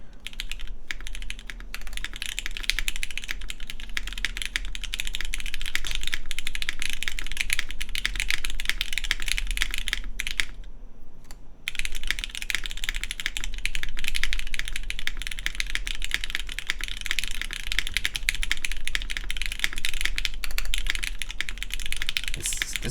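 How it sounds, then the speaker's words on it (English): Typing on a RAE Aurum mechanical keyboard gives steady, close, continuous key clacks at a quick rhythm, with a brief pause partway through and a low hum underneath. "Try just typing on this a little longer just for fun."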